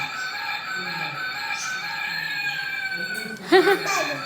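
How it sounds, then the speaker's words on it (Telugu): A rooster crows in a long, drawn-out call nearby, followed by a short burst of a person's voice toward the end. "కోడి అరుస్తుందిరా"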